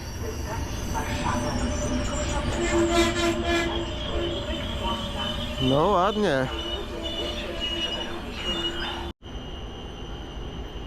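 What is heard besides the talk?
train arriving at Warszawa Wschodnia station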